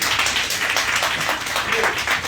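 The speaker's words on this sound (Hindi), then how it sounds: "तो मैं चाहूंगा एक बार इनके लिए दिल खोलकर ताली बजाएंगे।" An audience gives first-time guests at a Modicare gathering a round of hand clapping, dense and steady across the whole stretch, fairly loud with a slight ebb and flow.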